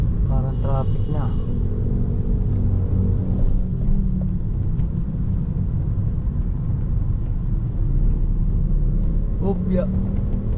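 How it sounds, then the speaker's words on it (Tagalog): Road traffic with cars passing, heard as a steady low rumble of engines and tyres that runs through the whole stretch, with faint voices in the background. "Parang traffic na."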